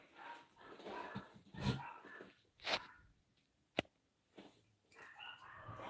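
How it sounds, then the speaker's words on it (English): Several dogs in a house bark and yelp excitedly, scattered bursts with a sharp bark near the middle, somewhat distant and mixed with room noise. "I can hear the dogs freaking out."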